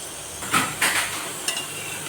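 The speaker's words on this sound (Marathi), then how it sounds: "आता आपण ह्या तेलात तळून घेऊ." Steamed and cut batti dough pieces for Khandeshi varan batti dropped into hot oil, giving a few brief hissing sizzle bursts up close over a faint background hiss, with no speech.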